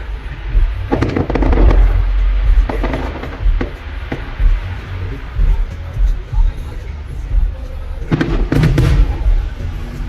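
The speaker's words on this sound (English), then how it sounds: "we ended up driving back into Grand Bend just in time to catch the fireworks" Fireworks at Grand Bend boom and crackle in irregular bursts, heard from a busy spot with crowd murmur and some people talking between the loud pops, with a dense cluster of blasts near the end.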